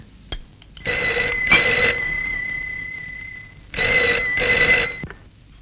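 Telephone bell rings indoors in two loud bursts, each made of two close double rings with a held tone between, fairly close and clear, with no talking over it.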